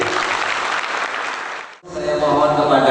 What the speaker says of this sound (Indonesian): Tepuk tangan buat diri.